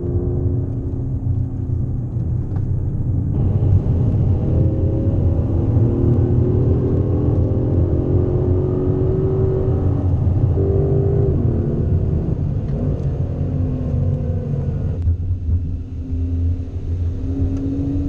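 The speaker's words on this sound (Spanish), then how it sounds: "como pudieron ver en la carretera, este auto tiene una aceleración brutal de 0 a 60 millas por hora en menos de 4 segundos" An Aston Martin DB11 with a 600 hp V12 accelerating on a highway near San Diego, its engine a loud, steady, close roar with rising harmonic sweeps as it gathers speed and shifts, with no talk over it.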